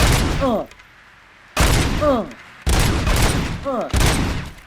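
Heavy gunfire in the video game RoboCop Rogue City comes in three or four loud bursts, each with a sharp attack and metallic whine, separated by short quiet gaps.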